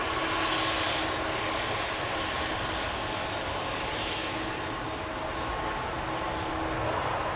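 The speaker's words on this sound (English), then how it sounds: "I think that might be the same 777-200 that we saw earlier" A United Airlines Boeing 777-200 bound for Newark roars steadily at Amsterdam Schiphol, a loud, even wash of jet engine noise that holds without break.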